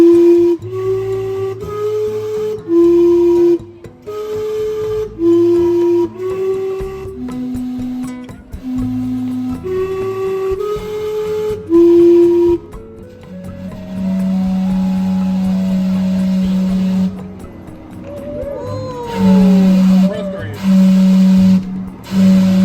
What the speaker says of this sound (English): we came here for its well-known whistling steam clock